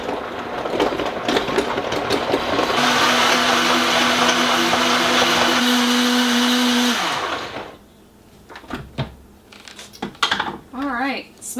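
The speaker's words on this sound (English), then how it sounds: "turn the blender back on, and then it blends better" A kitchen blender whirs loudly while blending frozen fruit for an acai smoothie bowl, a steady grinding roar that runs for several seconds and then cuts off, leaving a quieter stretch with brief sounds.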